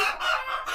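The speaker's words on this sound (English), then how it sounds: "oh my goodness, the chickens." Chickens on an off-grid homestead call loudly and close by, a brief burst of crowing and clucking from laying hens and a rooster.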